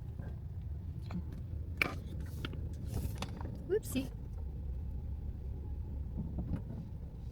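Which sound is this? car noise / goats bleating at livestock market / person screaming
car noise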